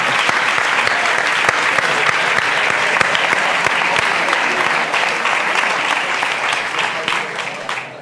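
A room full of people at a public talk in Reus, Spain, claps steadily and loudly, the applause holding strong and then tapering slightly at the end.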